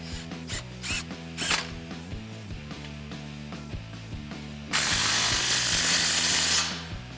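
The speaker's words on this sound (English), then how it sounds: "snug that down with a 13mm socket" A ratchet fitted with a 13mm socket snugs down a clamp on a 2011-2014 Mustang GT axle-back muffler-delete exhaust pipe, giving quick rapid clicking bursts up close, then a steady louder rasp near the end.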